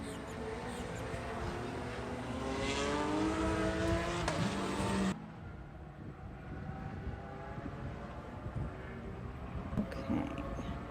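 Race cars pass on a circuit during the FARA Miami 500 endurance race, a loud engine drone sweeping by in the first half, then a quieter distant hum with faint passing noise.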